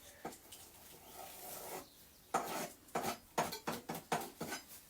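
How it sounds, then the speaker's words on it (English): Knife cutting through cling film wrapped around pizza dough, heard as a rustle and scrape followed by a run of six or seven sharp plastic crinkles and tearing snaps close by, without talk. "Take a knife, cut the cling film off"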